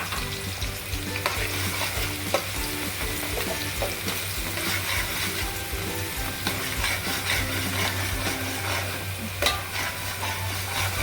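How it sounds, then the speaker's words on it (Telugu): Chopped onions sizzling and crackling in hot oil in a pan, with a steady dense fry and occasional scraping clinks of a spoon stirring them, close up and with no voices. "ఆయిల్ వేడిపోయింది, ఆనియన్ వేసుకోవాలి."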